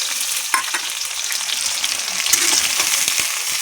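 Sliced onion frying in a hot pan for a soybean and egg gravy, a steady loud sizzle with the crackle and scrape of stirring, no voices.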